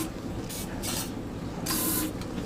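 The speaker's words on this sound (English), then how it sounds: "Spray some Go Juice in there." Short hissing bursts of starting fluid sprayed into a small engine with the valve cover off, three or four quick spurts separated by brief pauses.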